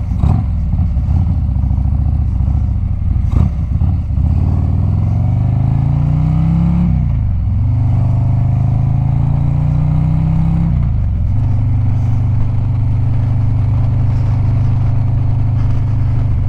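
A 2022 Harley-Davidson Street Glide Special with a Screaming Eagle 131 Stage IV engine runs loud and close. Its deep, rumbling idle swells into throttle blips that rise and fall in pitch, and a clank sounds near the start.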